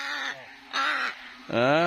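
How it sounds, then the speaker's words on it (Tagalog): A crow caws three times, loud and close, each harsh call separated by a short pause. "May uwak silang alaga oh."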